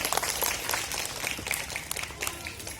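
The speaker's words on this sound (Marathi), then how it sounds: "सर्व पालक, ग्रामस्थ या सर्वांचे आपण टाळ्या वाजवून स्वागत करूया." Applause welcoming parents, villagers and guests at a bazar day held at a government primary school in Murmuse, Tuem, Goa, with a soft, scattered crowd clapping at a distance and a brief murmur of voices.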